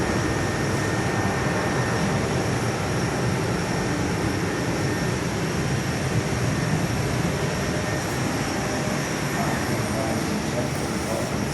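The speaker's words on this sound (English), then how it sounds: "Got a Boeing 737-800 coming in to land on 21" Boeing 737-800 airliner approaching to land on runway 21 at Perth, a steady broadband engine roar lasting throughout, heard from an indoor viewing platform.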